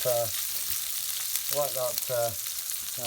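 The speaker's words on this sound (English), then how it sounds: "fry for a few moments, just let it soften up" Ingredients for a lentil curry fry in a pan over low heat, a soft steady sizzle running close throughout while a voice speaks in short bursts over it.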